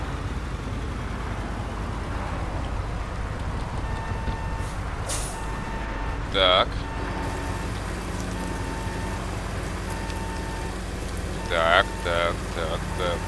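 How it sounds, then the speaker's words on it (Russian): Steady rain in the truck-driving game 18 Wheels of Steel Across America, a constant hiss over a low engine rumble, broken by a couple of short brake squeals, with a brief spoken word. "Кстати говоря, у нас начался дождь."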